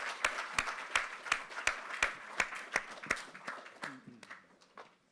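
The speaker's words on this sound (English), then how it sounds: "Michael, they're clapping just in case you're not seeing this." Scattered applause from the audience at a public consultation meeting as panel members take their seats, with distinct individual claps fading out toward the end and no talking.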